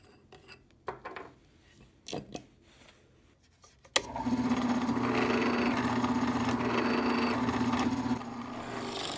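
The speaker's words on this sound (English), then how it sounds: "we then go to drill the hole into the threaded rod" Sparse clicks and handling noises, then a loud steady drill whine with a buzzing drone starts and runs continuously, close by, as it bores a hole into threaded rod.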